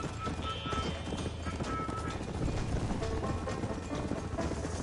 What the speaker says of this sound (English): And my horse got spooked by the gun.